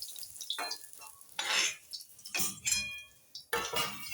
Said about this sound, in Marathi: मिरच्या तळू बरं काय हिरव्या मिरच्या तळून घेऊ